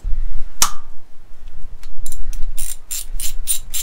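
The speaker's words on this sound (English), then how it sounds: "It's a Torx T27, and that will undo that bolt in there, right?" A ratchet with a Torx T27 bit undoing a bolt on a Harley Davidson Softail ignition coil cover: one sharp click, then a run of quick, close ratcheting clicks toward the end, with no voices.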